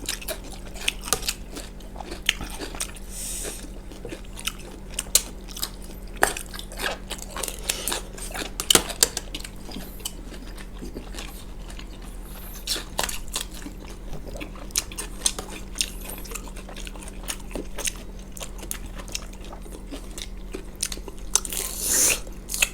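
Someone eats Thai lime pork (moo manao), with a steady run of close, moist chewing and biting clicks over a low constant hum.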